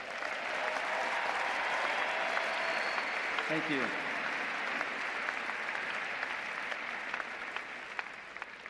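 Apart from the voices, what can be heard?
audience applause at commencement ceremony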